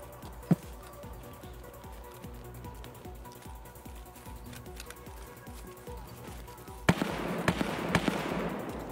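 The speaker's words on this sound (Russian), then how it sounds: "Где-то он по ним стреляет, не пойму где." Distant gunfire in Escape from Tarkov, scattered faint cracks spread through a quiet stretch, then a louder cluster of sharp reports near the end.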